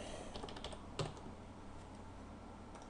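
Typing on a computer keyboard while entering text in a design program, with a steady run of soft key clicks and one sharper tap near the middle, faint against a constant background hiss.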